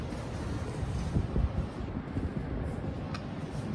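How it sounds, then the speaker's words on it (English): Thyssenkrupp modernized traction elevator machinery runs in a machine room overhead, heard from inside as a steady low rumbling hum with a faint whirring edge, continuous and moderately loud, with no talk. "I believe the machine room's up there because you can hear it."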